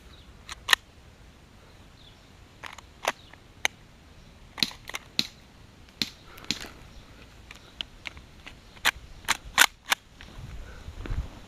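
A Tokyo Marui Glock 17 airsoft pistol fires about twenty sharp, snappy shots at an irregular pace, some in quick pairs, crisp and near against a quiet background.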